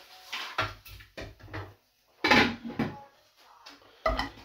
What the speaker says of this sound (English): Now I'm going to put this in the slow cooker.